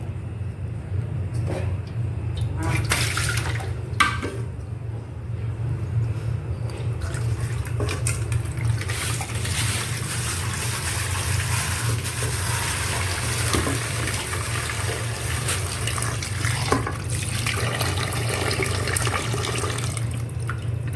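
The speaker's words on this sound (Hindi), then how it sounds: "ये अम्मी का फेवरेट फ्रूट है, प्लम्स। तो ये मैं धो लेती हूँ।" Plums are washed under a running tap, giving a continuous, fairly loud rush of water with occasional splashes and knocks in the sink and a low hum underneath.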